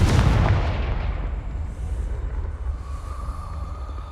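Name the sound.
Depulso and Confringo spells cast in Hogwarts Legacy video game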